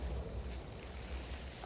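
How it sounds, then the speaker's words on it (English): Insects trill steadily in a night setting by a fence, a constant high-pitched, even drone with no gaps, moderately loud and alone without voices. "lovely sounds of the insects"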